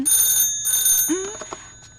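A telephone bell rings indoors, loud and close, with two bright bursts of ringing before a voice starts to talk over the fading tail.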